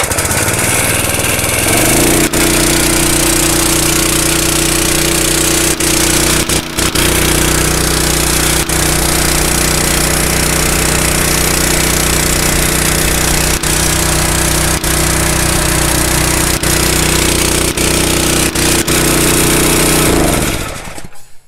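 A small gas engine on a high-pressure air compressor starts up and runs steadily at a loud, rattling idle for about twenty seconds, then shuts down at the end.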